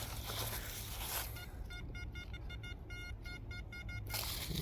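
A rapid pulsing electronic tone, like a metal detector signal, chirps in short repeated bursts over steady background noise for a few seconds.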